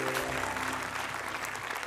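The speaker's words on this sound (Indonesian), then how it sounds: "tepuk tangan dulu dong" Studio audience at an Indonesian comedy talk show breaks into steady, dense applause that fills the whole stretch, close and even in loudness with no speech over it.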